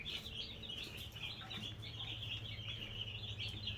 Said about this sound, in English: So these are the turkey and these are the broilers.